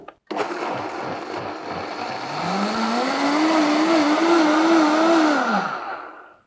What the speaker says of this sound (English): We're actually going to get a third of the beans and a third of the stock and blitz it